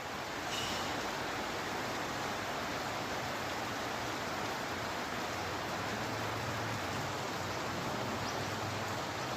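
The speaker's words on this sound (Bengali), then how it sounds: "সারা রাত্রি বৃষ্টি, বৃষ্টি আর বৃষ্টি, বৃষ্টির কোনো শেষ নাই।" Steady rain falls through the night, a dense, even hiss that never lets up. No one speaks over it.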